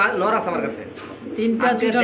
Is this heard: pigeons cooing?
yes